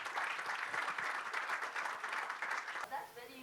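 Audience applause at a national business summit, a steady wash of clapping from a seated crowd that cuts off abruptly near the end, followed by a brief quiet room tone.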